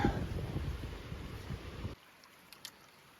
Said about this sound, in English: They should name this like Bubbling Creek or something.